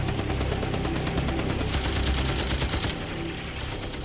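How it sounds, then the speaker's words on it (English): An M60 machine gun fires from an open helicopter door, a loud continuous rattling stream of rapid shots with a constant mechanical roar behind it and no voices. "his job, to attach his M60 machine gun to a bungee cord and fire."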